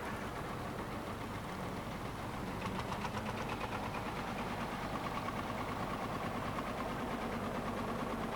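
An old Marshall tractor engine of Gainsborough make runs steadily at a vintage tractor show, with a continuous low, knocking idle chug at close range and no voices.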